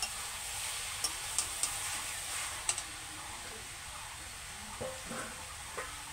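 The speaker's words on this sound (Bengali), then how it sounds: "এবার এর মধ্যে ভেজে রাখা চিংড়ি মাছগুলো দিয়ে দিচ্ছি। দিয়ে আবার একটু ভালো করে নাড়াচাড়া করে নিচ্ছি।" Fried prawns being stirred into a jackfruit and potato curry in a pan, with a steady soft sizzle broken by scattered light clicks and scrapes of the spoon.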